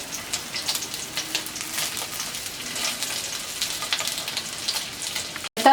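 Steady crackling sizzle of chicken balls frying in a little oil, dense and continuous throughout, with no voices.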